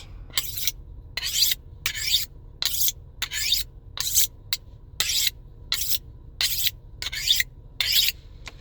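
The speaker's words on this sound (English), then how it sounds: "These are fillet knives, and this is how you sharpen knives." Fillet knives being sharpened, a series of about fourteen evenly spaced rasping strokes of steel against a sharpener, close and clear over a quiet low hum.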